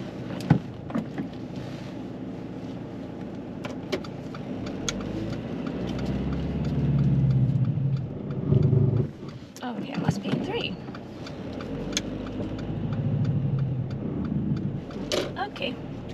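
A car pulls away during a driving test, its engine a steady low rumble inside the cabin that swells briefly partway through, with faint voices and small interior clicks in the background.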